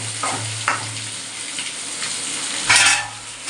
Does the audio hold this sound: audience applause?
no